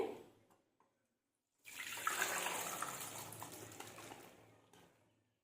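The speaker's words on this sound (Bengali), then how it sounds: "ছেঁকে একদম জল ঝরিয়ে নিতে হবে" Water from boiled peas drains through a strainer in a sustained rushing pour that starts after a brief quiet and fades out over about three seconds, heard alone.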